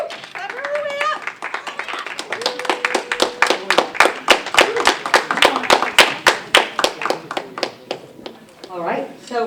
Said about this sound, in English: Clap her all the way up.